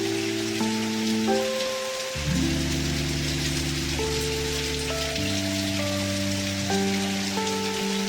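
Steady monsoon rain falls throughout in Bengal, a soft continuous hiss running beneath sustained musical tones.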